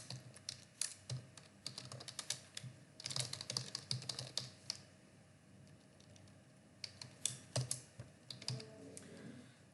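Typing on a computer keyboard while writing Python code, close and fairly quiet, with bursts of rapid key clicks separated by short pauses and no talking.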